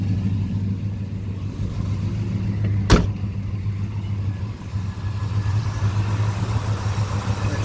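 A 1972 Chevelle SS with a big block engine and automatic transmission idling steadily with a deep low rumble, close by, one sharp click near the middle, the engine carrying on evenly throughout.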